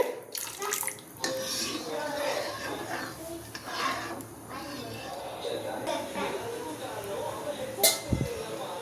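Water poured into a pot of sago for milk payasam, a steady splashing stream that runs for several seconds with a brief clink of a pot near the end.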